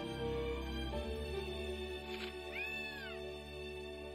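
Cat meowing in the video game Gravity Rush, a few short rising and falling meows over a steady game music bed.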